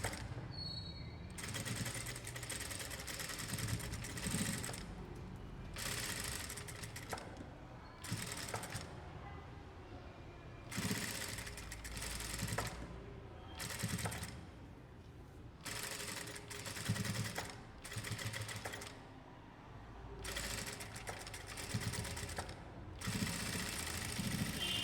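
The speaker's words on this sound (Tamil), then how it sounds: "இப்போ நம்ம 0 லைன் ஸ்டிச் பண்ணலாம்" A sewing machine stitches lines of fabric tucks in repeated bursts of rapid mechanical whirring, broken by short pauses between runs, close and steady throughout.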